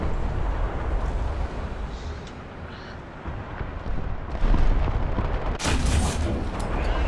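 Tank cannon fire in War Thunder on the Seversk-13 map: loud booming shots burst out around the middle of the clip over constant rumbling battle noise, followed by a sharper, brighter blast near the end.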